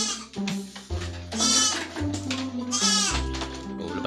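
Goats raised in a backyard pen bleat repeatedly, several loud, wavering calls following one another closely and overlapping, with no talking.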